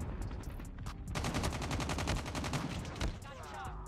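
Rapid automatic gunfire in the Call of Duty Mobile video game, dense bursts of shots rattling almost nonstop at a moderate, slightly distant level.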